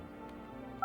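A telephone number is dialed in the video game No, I'm Not a Human, a short run of DTMF keypad tones over a faint hum, ending in a louder, clear two-tone beep, with no voices.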